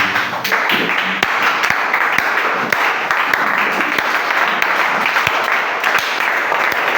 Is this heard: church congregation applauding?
yes